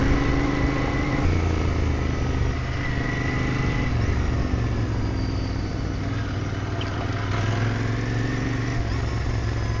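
A Royal Enfield Interceptor 650 motorcycle accelerates in first gear, a loud continuous engine drone with rising throttle tones that holds steady for the whole stretch, heavy rumble mixed with wind.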